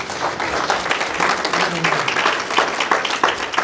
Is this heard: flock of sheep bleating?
no